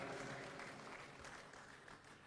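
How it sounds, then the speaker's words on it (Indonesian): A crowd at a Partai Demokrat leadership announcement claps for Syarifuddin Hasan, a continuous, full round of applause spread evenly across the room with no talking over it. "tepuk tangan."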